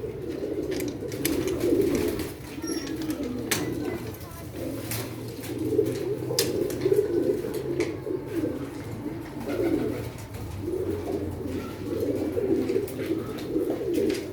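Pigeons, breeding pairs kept on a rooftop loft setup, coo in steady, overlapping rolls close by, a continuous soft murmur with occasional faint clicks and rustles in the background.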